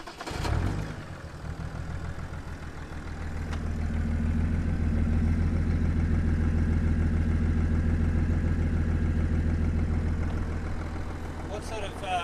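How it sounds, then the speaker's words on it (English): A BMW engine swapped into a Nissan Patrol cranks briefly, catches and settles into a steady, loud, rumbling idle close by, with people talking over it. "Do you want to start the motor?"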